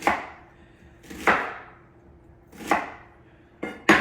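A knife slicing through a fennel bulb, four crisp, separate crunching cuts spaced about a second apart, each ending in a thud on the board, with quiet pauses between.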